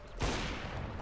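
A sudden loud burst of gunfire from the video game CS:GO erupts, then rolls into a sustained noisy rattle of shots and game ambience that lasts about a second.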